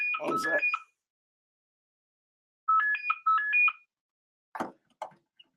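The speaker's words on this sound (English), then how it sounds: "That's the phone just going off." A phone ringtone plays in short melodic bursts, two rings separated by silence, followed by a couple of brief clicks or bumps.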